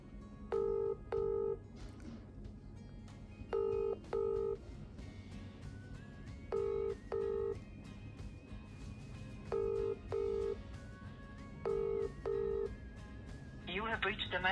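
An outgoing phone call rings unanswered, repeated paired ring tones sounding at steady intervals, with background speech and other sounds underneath, ending in a brief higher tone.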